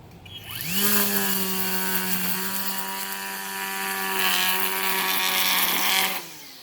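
EGO 56V battery weed trimmer edging, the electric motor spinning up with a rising whine, holding a steady high drone that dips and swells as it cuts, then stopping abruptly.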